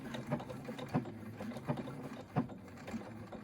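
A sewing machine running a pillow seam at a 2.5 stitch length: a steady low mechanical hum with soft rhythmic thumps recurring roughly every 0.7 seconds, quiet and close, with no talking.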